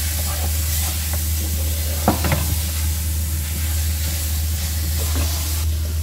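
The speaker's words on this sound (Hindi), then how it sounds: "अच्छे से आपने इसको साथ किनारों से छुड़ाते जाना है और इसको भूनते जाना है" Punjabi carrot halwa stirred and roasted in ghee, a continuous soft sizzle with occasional scraping spatula strokes along the pan edges, over a constant low hum, no talking.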